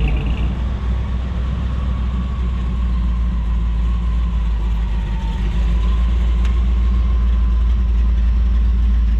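A 1964 car idling at a flea market swap meet and car show in Daytona Beach: a steady, loud low engine rumble holding evenly throughout, with a faint high tone drifting above and no speech.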